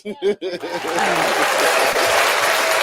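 A short burst of laughter and voices, then clapping by a podcast host and guests that settles into a steady, close rattle of claps for the rest of the moment.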